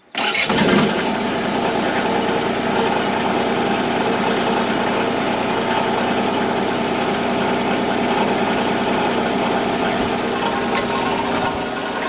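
A Cat 302.5 mini excavator with a slightly low battery cranks briefly, then its diesel engine catches and settles into a loud, steady idle that runs without a break to the end.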